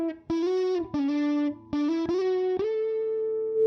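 Guitar counter melody played through a Universal Audio amp plugin, a clean sustained tone with effects shaping each note, a short phrase of single notes with brief gaps, the final note ringing out and fading.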